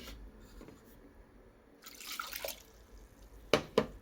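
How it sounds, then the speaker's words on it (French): Water poured from a glass onto chopped vegetables in a cooking pot, heard as a soft splashing pour followed by a couple of sharper drips and splashes near the end, close and fairly quiet. "Je vais rajouter de l'eau, juste un peu d'eau"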